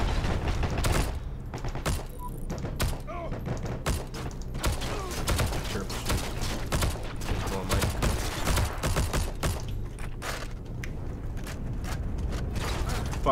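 Constant gunfire fills a Heroes & Generals battle as rapid, overlapping rifle and machine-gun shots crack from many directions, dense and loud, with faint voices under the shooting throughout.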